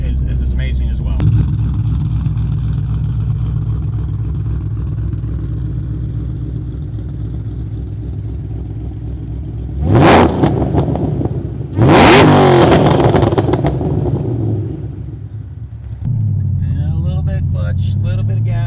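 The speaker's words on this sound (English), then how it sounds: "It sounds incredible at wide open throttle. It sounds incredible idling. I cannot give LTH enough props for the exhaust they have on this car." A 2013 Ford Shelby GT500 with an LTH exhaust idles with a deep, steady rumble, then is revved hard in two loud bursts before settling back to idle, with a voice talking over parts of it.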